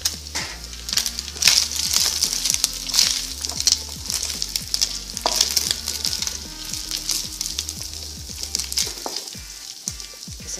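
Onion fries with bacon in a pan, a close, crackling sizzle broken by repeated scraping stir strokes in an uneven rhythm, with no voices.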